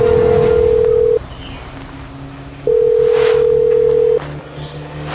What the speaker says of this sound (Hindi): जकीरा, तुम उस बच्चा को फोन लगाओ।